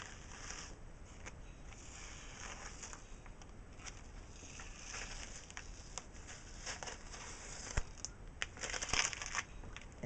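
A Cricut vinyl stencil peels slowly off a painted t-shirt with faint sticky tearing and crackling, growing sharper and louder near the end.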